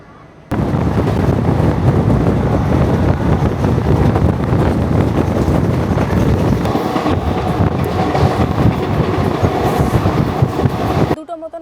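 A train entering Khurda Road Junction rumbles loudly and continuously close by, steady rolling clatter of wheels on rails with wind buffeting, no talk.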